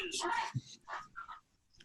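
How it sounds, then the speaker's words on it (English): A dog whimpers and yips in short, high, breathy bursts close by, wanting attention, with someone speaking quietly over and between the sounds. "the dog wants handshakes"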